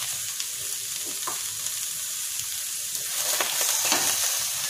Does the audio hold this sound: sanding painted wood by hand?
no